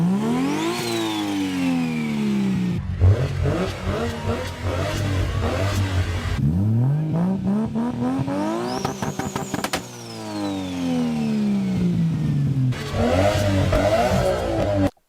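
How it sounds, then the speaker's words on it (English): A Nissan R34 Skyline GTR with an RB26 engine and T51R Kai turbo revs hard in repeated rising sweeps, loud and close, with brief drops between pulls and whistling turbo tones on top. "This car has an RB26 with a T51R Kai and sounds super satisfying."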